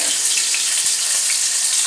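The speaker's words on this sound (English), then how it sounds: "the fish has been frying there for about 5 minutes" Whole fish sizzling in hot oil in a wok for a Szechuan spicy fish dish, a steady dense crackling hiss that runs unbroken and fairly loud throughout, with no voices.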